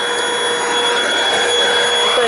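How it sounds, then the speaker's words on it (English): Hoover BH52210PC Cruise cordless stick vacuum running over a rug, a loud, steady high-pitched motor whine with airflow hiss throughout, close up and uninterrupted. "So it actually does a pretty good job in vacuuming up a rug."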